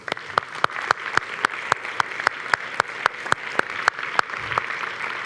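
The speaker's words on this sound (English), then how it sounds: "Let me just invite the audience to have a big clap to all our panelists." An audience claps for the panelists after a discussion session at a development conference, a steady run of sharp, evenly spaced claps that carries on without pause from start to finish.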